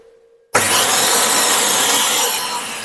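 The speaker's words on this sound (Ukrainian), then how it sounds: "Е, турбо у нас тут одразу вам покажу, як працює." A Lidl kitchen robot switched to its turbo setting starts abruptly after a faint hum and runs as a loud, steady, high-pitched whir close by, easing slightly near the end.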